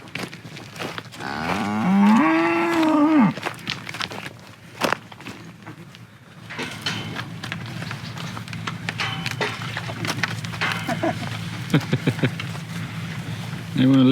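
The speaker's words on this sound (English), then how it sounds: "our car arrival confused the cows into thinking it was dinner time" Farm cows moo loudly and close by, one drawn-out call early on, with footsteps, wooden knocks and people talking nearby through the rest.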